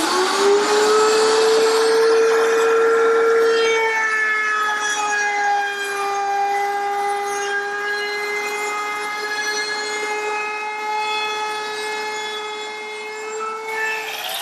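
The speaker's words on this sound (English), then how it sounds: "now I just have to route the rest of it" Router with a 3/8 inch radius roundover bit and pilot bearing, mounted under a router table, cutting a wooden cabinet part, a steady high whine held for the whole span with a slight dip partway through.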